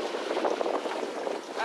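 Wind and water rush steadily around a sailboat under sail with its engine switched off, a broad continuous hiss and wash at close range without engine drone.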